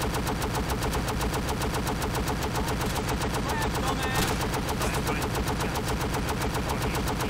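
Rapid video game gunfire rattles in a continuous, loud automatic burst, even and unbroken from start to finish.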